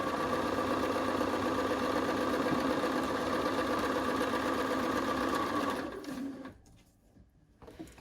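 Sewing machine stitching quilt pieces, a steady fast mechanical whir and rattle running loud and close for about six seconds before stopping, leaving quiet handling noise.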